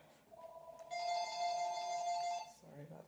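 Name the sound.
telephone ringing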